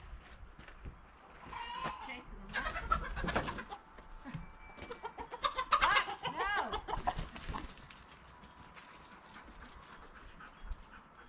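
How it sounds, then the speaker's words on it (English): Chickens clucking and squawking in alarm while a herding puppy chases them, with excited barks and panting mixed in and a person talking over the commotion; bursts rise and fall in loudness. "Puppy's chasing chickens."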